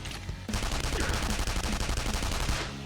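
Rapid gunfire from Persona 5 Royal, a loud dense burst of repeated shots sustained for about two seconds after a brief quiet start, with no talking over it.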